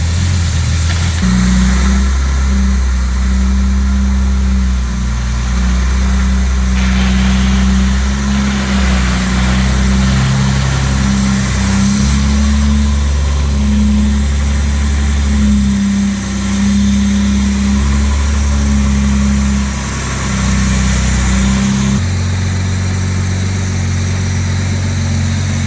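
A 1962 Jaguar E-Type with its 3.8 engine runs close by, a deep steady idle with a few shifts in revs and pitch as the car moves, with no talking.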